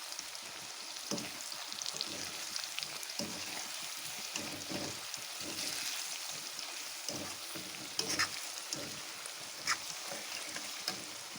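Spiced sweet-and-sour mango pickle is stirred in a frying pan, giving a steady soft sizzle with scattered scraping clicks of the spoon against the pan throughout.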